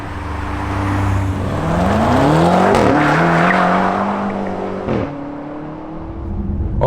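A BMW M5 F90 with xDrive slides with tyres skidding and squealing over a loud rising engine roar, the pitch climbing as it powers out, close and sustained.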